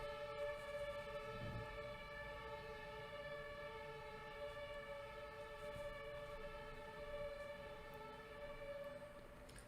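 Ambulance sirens on a Berlin street wail from outside, faint and distant, holding sustained tones that blend with a rumble of traffic for the whole stretch.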